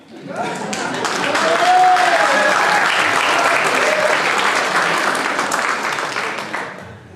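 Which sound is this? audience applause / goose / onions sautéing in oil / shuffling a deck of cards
audience applause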